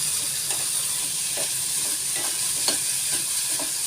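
Potatoes fry in oil in a pan for a chutney-powder potato and onion stir-fry, giving a steady, loud sizzle with soft, irregular stirring scrapes and no voices.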